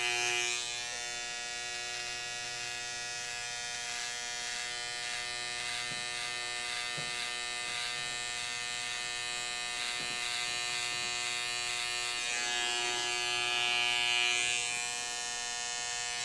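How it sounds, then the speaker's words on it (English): An electric beard trimmer buzzes steadily while trimming and detailing a man's beard, a close, continuous vibrating hum with slight shifts in tone as it moves across the hair. "the vibration of the clippers or the trimmer is going to make the hair move"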